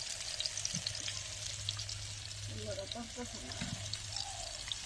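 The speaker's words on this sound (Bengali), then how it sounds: "এখন মাছটা বেজে নেব" Fish frying in a wok-style kadai for a Friday meal, a steady low sizzle and hiss running under the whole stretch, with a faint voice murmuring briefly in the middle.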